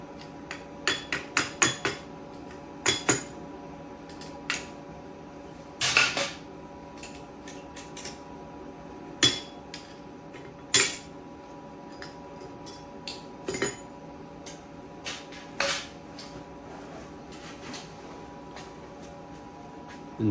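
A hammer taps copper rivets in sharp metallic strikes, sometimes in quick clusters of two or three, then single spaced blows with pauses between, close and ringing over faint background hum.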